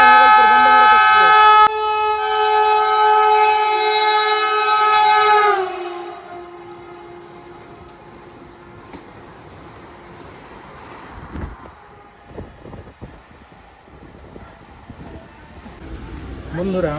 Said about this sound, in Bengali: আমাদের এখন ওভারটেক মারছে ভাগলপুর হাওড়া ভাগলপুর বন্দে ভারত এক্সপ্রেস